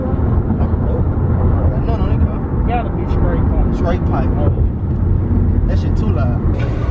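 A race car with a straight pipe exhaust at a street car race in New Orleans, its loud raw engine roar rising and holding close by, with crowd chatter and voices mixed in.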